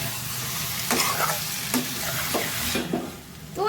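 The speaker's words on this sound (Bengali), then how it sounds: "গরম মশলা দিয়ে একটু নাড়িয়ে চাড়িয়ে নেব" Bengali-style duck egg kasha curry with garam masala sizzling thickly in a pan, a dense close hiss with several quick stirring scrapes spaced through it, no voices.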